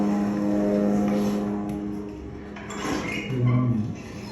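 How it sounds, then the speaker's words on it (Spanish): A military drone hovers overhead in Gaza, giving a steady propeller-like drone with a tonal hum that wavers and rises in pitch near the end, heard alone without speech. "Todo este video que escucha es el dron que está 24 horas."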